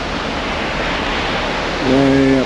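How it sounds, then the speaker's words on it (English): A waterfall near old gold mining ruins pours as a loud, broad, steady rush of falling water, with a short burst of a voice near the end. "beautiful waterfall here"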